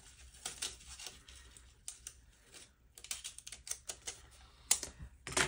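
Crisp snipping and slicing of sticker paper with scissors, a run of close, irregular cuts with small rustles between them.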